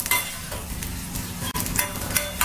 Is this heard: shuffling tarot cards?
no